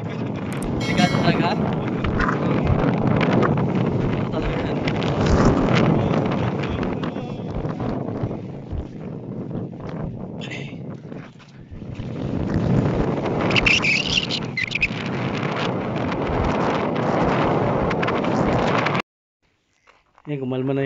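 Heavy wind roars and gusts across the microphone, with people talking beneath it before the noise cuts out briefly near the end.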